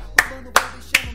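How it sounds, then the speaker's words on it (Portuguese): Three sharp hand claps, close and evenly spaced about a third of a second apart, each ringing briefly in an otherwise quiet space. "Ah, palmas."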